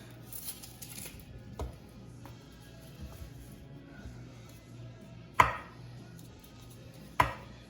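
A sharp kitchen knife slicing a yellow onion along the grain on a cutting board, a few soft taps and then two crisp, distinct chops, close and quiet with no talking.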